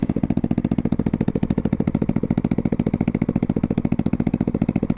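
A small motorcycle engine running at a steady idle, close and moderately loud, with a rapid, even chugging pulse throughout and no talk.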